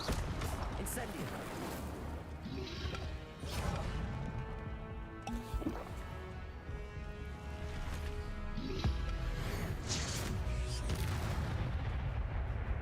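Incendio fire spell cast in the video game Hogwarts Legacy, a dense, loud run of booming magical blasts and crackling impacts layered over game music, with bursts recurring throughout.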